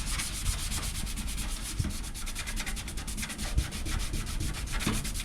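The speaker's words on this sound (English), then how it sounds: "It's sort of like an interface pad or a cheap sanding sponge" Car boot lid on a Sierra Sapphire being hand sanded with a soft sanding pad, a steady, rhythmic back-and-forth rasping of fairly fast strokes, close and clear, with no talking.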